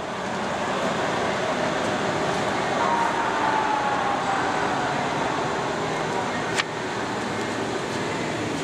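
A Leblond 31 x 144 Model NI engine lathe spindle running near 400 RPM and winding down, giving a steady broad mechanical whir and hum with a brief sharp click near the end.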